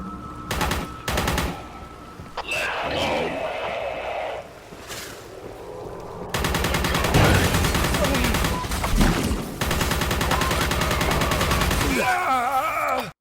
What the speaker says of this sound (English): it's kind of like a freeze projectile weapon which stops them dead